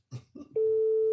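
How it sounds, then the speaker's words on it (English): A telephone line at a radio station sounds with an incoming call, a steady electronic tone that starts after a short murmur of voice and holds loudly to the end. "Looks like somebody's trying to call in."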